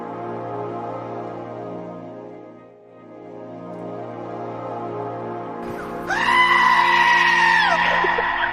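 A goat lets out a loud, close, drawn-out scream that starts partway through and holds to the end, coming after a steady droning tone.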